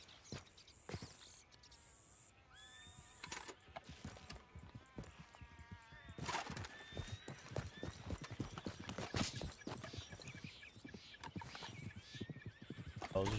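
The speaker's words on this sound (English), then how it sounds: "Oh, those are just wild horses?" Wild horses in the video game Red Dead Redemption 2 trot with steady clip-clopping hooves and let out several whinnies and neighs, quiet and moderately distant, among other game sounds, with brief talk.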